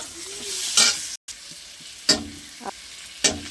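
Salt, turmeric and green chilies sizzle in a pan of fish curry base, with spatula scrapes and stirs cutting through the steady frying hiss at a few uneven intervals.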